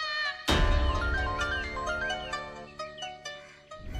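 A phone ringtone signalling an incoming call plays loud and close as a melodic electronic tune with repeating notes that starts suddenly and continues without speech.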